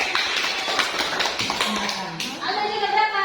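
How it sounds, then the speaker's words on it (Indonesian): Classroom students clap their hands in a short burst of scattered, uneven claps, and voices, including children's, mix in and continue over the end. "Tepuk tangan."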